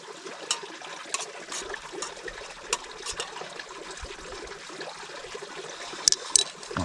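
Pasta with breadcrumbs and oregano stirred in a pot on a hiking trip: a wet, steady swishing and bubbling with occasional sharp clinks of utensil against metal, close and moderately loud, no talking.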